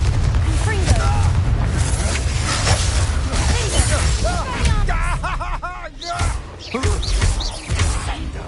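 A magical fire spell in Hogwarts Legacy bursts into booming blasts amid chaotic combat sound effects, with voices talking over the loud, continuous rumble.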